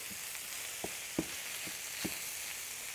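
Quiet sizzle of browned beef frying in a pan as salt, pepper, cumin and chili powder are stirred in, with a few soft scraping taps of the spoon over a steady low hiss.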